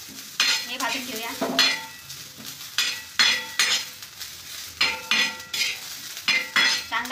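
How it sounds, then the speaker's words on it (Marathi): Onion and garlic fry in a pan as a spoon stirs them, giving repeated scraping clinks over a steady sizzle, close and clear, with no speech. "कांदा आपल्याला भाजून घ्यायचा आहे,"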